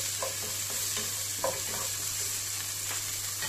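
Boiled peanuts and onion are stirred in a sizzling pan for kande poha, a soft steady frying hiss with repeated scraping strokes of a spoon over a low hum.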